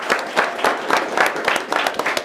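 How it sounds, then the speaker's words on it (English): Round of applause at a county Board of Supervisors meeting, a sustained patter of many hands clapping in a room, steady and moderately loud without speech over it. "Let's please give him a round of applause as well."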